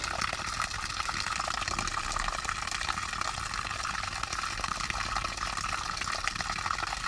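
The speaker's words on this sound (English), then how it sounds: "this thing's pushing out water as well as the 750 one that I had" Steady rushing of water driven out by a bilge pump on a Starcraft fishing boat, a continuous even gush with no pauses and no voices over it.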